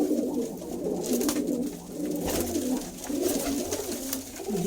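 Breeder pigeons coo continuously in low, throaty murmurs, several birds overlapping close by with faint background noise.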